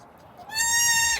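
A young goat on a small pasture farm lets out one loud, drawn-out bleat that rises sharply and holds for over half a second before cutting off, after a brief quiet lead-in.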